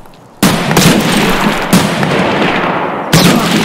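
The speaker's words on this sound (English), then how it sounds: "Oh, grenades." Grenade blasts in Escape from Tarkov, a loud sharp explosion that rolls into a sustained roar, then two more booming detonations spaced over a few seconds, close and heavy.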